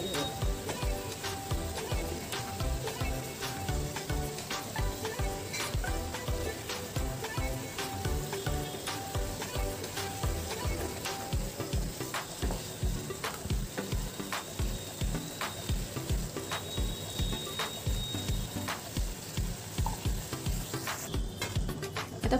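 Chicken pieces are stirred into boiling gravy in a pot, with a steady sizzle and bubbling under repeated scraping and clinking strokes of a spoon over a long, even stretch.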